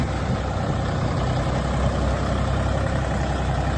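A Dongfeng 244 Lux tractor on wide 11.2-24 tyres idles nearby, giving a steady, loud low engine rumble throughout with no talk.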